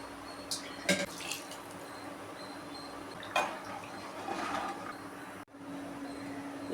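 Water poured into a pan of prawn curry, a faint trickling splash with a few drips and light clinks, soft and close under a quiet background hum.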